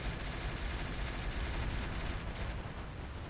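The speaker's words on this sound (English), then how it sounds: "that's the mortar carrier absolutely pounding that Cyclops" Mortar carrier shelling a Cyclops mech in the RogueTech video game, a dense continuous roar of explosions and rumbling gunfire that stays loud throughout.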